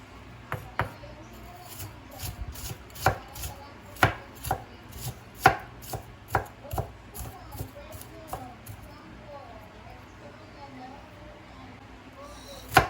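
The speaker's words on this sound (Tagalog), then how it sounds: "White onion. Slice din po natin yung pino." A knife finely slices a white onion on a cutting board, producing a steady series of close, crisp chops with short pauses and a voice talking at times.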